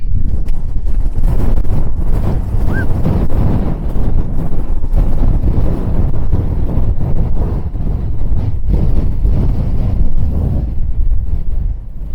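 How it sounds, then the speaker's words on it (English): Strong, steady wind on a hillside in the Lake District's Eastern Fells roars and buffets continuously against the microphone, a loud low rumble with gusty surges and no voices. "It's a bit too windy."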